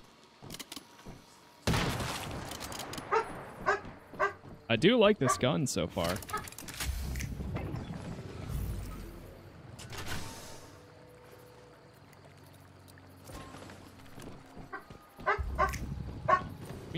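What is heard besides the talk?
dog barking in the video game Once Human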